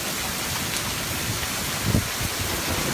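Hail pours down steadily over a village, a dense continuous hiss of pellets striking roofs and ground, fairly loud and uniform with no talk.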